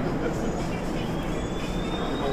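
Steady rumble and rattle of a regular passenger train in motion, heard from inside, continuous and fairly loud with a faint high whine.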